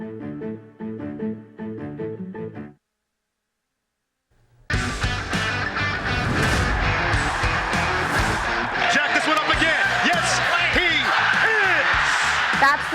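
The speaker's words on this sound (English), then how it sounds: "That's the sound of the crowd cheering on Ian Martinez after draining one of his 7" A basketball crowd roars and cheers after Ian Martinez drains a 3-pointer, a loud, dense, sustained swell that erupts after a short musical sting and a brief silence.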